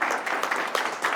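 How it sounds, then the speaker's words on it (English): An audience applauds in a short burst of dense, steady clapping heard at moderate volume. "You should give an applause to these 2 guys and all their team."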